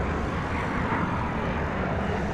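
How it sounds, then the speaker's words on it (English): American Eagle Embraer 170 regional jet taxiing out at DFW Airport, a broad steady engine roar and rumble at moderate distance, constant in level with no voices. "Rolling out there, you'll see in a second an American Eagle 38, Flight 3852, an Embraer 170 to San Angelo, Texas."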